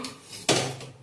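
A metal pressure cooker is set down on a gas stove with a single close, sharp clank, followed by a short ring-off in a quiet kitchen.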